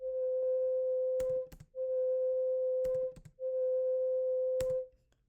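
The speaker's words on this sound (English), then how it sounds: "That is the sound of that overtone strengthened by that resonance." A sung voice filtered down to a single overtone strengthened by vocal resonance, heard as a pure whistle-like tone in three sustained bursts separated by short gaps with faint clicks, fairly quiet and isolated.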